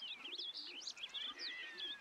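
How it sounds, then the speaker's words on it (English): A bird in We Love Katamari chirps and warbles in quick, bright, sliding tweets, several short calls in a row, faint and alone. "It's a bird."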